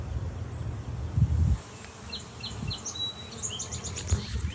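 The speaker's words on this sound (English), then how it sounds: "There's a lot of bees." A swarm of bees at a hive, with the queen somewhere among them, buzzing in a steady low drone, swelling louder around the middle, while a few faint bird chirps sound above it.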